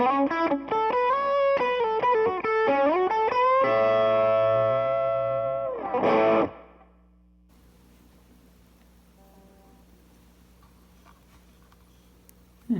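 An electric guitar through a BYOC Silver Pony overdrive pedal with the gain fully up plays a run of distorted notes, then a sustained crunchy chord that cuts off sharply, leaving a quiet hum behind.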